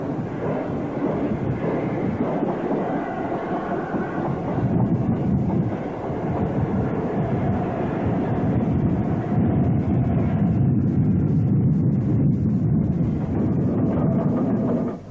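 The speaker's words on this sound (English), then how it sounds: "The 8Fs were one of many locomotive designs for the LMS provided by Stanier in the 1930s" LMS Stanier 8F class steam locomotive, a 1930s design built at Eastleigh, running on British railways in the 1950s; a loud, steady rumble of wheels and train throughout, with a faint clickety-clack and no talk.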